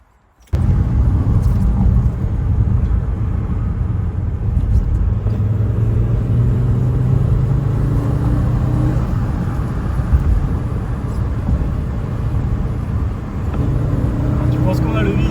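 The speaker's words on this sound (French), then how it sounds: "Le bruit du 5 cylindres, la RS3 de l'époque." An Audi 90 B2 five-cylinder engine, built as a Quattro replica, runs loud and close with a steady low rumble and swelling revs, while people talk over it.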